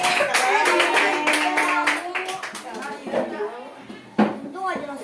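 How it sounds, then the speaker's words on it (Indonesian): Primary school students in a classroom clap together in a brisk, rhythmic pattern. The clapping thins out partway through, children's voices chatter, and a sharp knock or bang sounds near the end. "Tepuk tangan buat para pahlawan kita hari ini."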